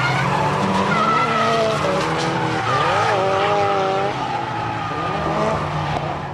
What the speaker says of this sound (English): Team drift is the most impressive to watch, with up to 4 cars trying to match each other's line.